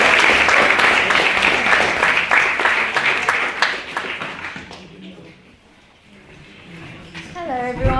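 A debating society audience applauds to welcome Josie with loud, dense clapping that thins and fades midway, then a voice begins speaking near the end.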